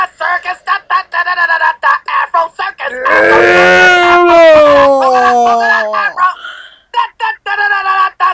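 An upset dog howls and whimpers in one long, wavering wail of about three seconds, loud and close, with short bursts of voices or singing before and after it.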